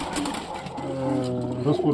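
Soft cooing murmurs of breeding pigeons throughout, close and steady, with a low hum and some background noise.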